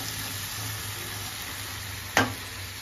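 Chopped onion and tomato cook in a pan as stuffing for stuffed bitter gourd, giving a soft, steady sizzle with a low hum, then one sharp brief clatter near the end; no talking.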